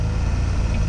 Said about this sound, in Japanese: エンジンが切れないの。